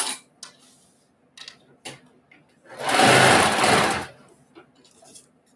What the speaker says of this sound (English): I'm gonna sew it on the other side